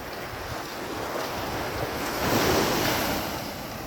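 Waves washing onto a seashore, a continuous broad surf roar with wind buffeting the microphone, swelling louder midway as a wave breaks close by, with no talking.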